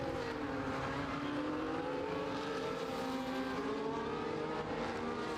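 Mercedes-powered McLaren and Mercedes race cars battle closely at a Canadian circuit, engines roaring loud and continuous with rising and falling pitch as they accelerate and pass, no voices.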